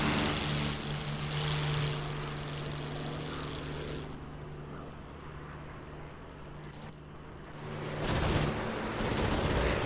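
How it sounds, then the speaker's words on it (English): Propeller aircraft engine in the DCS flight simulator game, a steady loud droning hum with a low tonal drone throughout, dipping slightly mid-clip before surging again near the end, with no talking. "The engine sounds perfectly fine."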